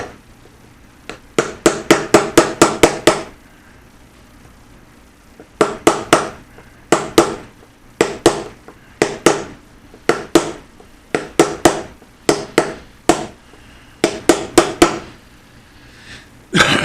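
A hammer taps a stuck metal part on an EZGO golf cart in quick bursts of sharp strikes, loud and close, with short pauses between each series of blows.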